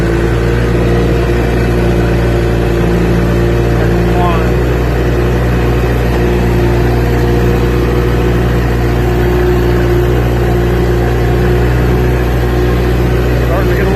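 A logging skidder's engine labors steadily and loud as it climbs a small hill with the differential locked and a lower gear engaged, a constant heavy drone close up throughout.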